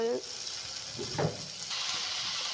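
Sliced bitter gourd (karela) goes into a hot pan of oil, and a loud, broad frying sizzle rises and holds steady. A brief stirring scrape is heard partway through.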